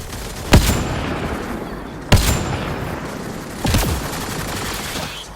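Three loud, sharp gunshots from a Mass Effect Andromeda firefight, spaced about one and a half seconds apart, each with a short echoing tail over a steady rumbling battle background.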